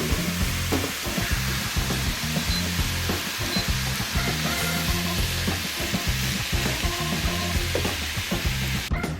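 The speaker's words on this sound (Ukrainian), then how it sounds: "Додали ще томат і тушимо." Tomato stewing in a pan for borscht makes a steady close sizzle with crackling bubbles and a faint stirring scrape throughout, with no talking.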